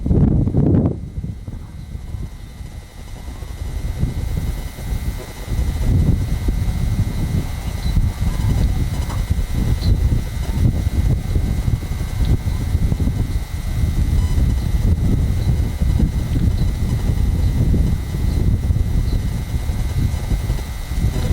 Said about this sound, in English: the wind has definitely picked up here. It's back to the gusts of 30 to 35 mile per hour winds